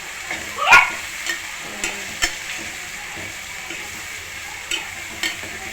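Food frying in a pan while being stirred, a soft steady sizzle broken by a few light scraping knocks of the spoon against the pan, close and alone without talk.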